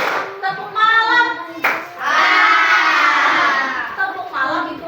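A class of children claps hands together in a rhythmic clapping game, the claps mixed with loud excited children's voices and shouting close by.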